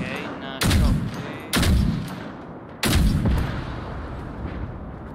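Three heavy, booming gunshots with reverberating tails, spaced about a second apart, in a firefight in the video game Generation Zero.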